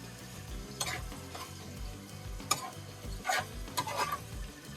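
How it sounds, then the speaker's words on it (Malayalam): A spoon stirs cumin powder into a fish egg mixture in a pan, giving soft scraping strokes every second or so over a low sizzle, close but quiet, no talking. "അതും കൂടി ഇട്ട് നല്ല രീതിക്ക് അങ്ങോട്ട് ഇളക്കുക"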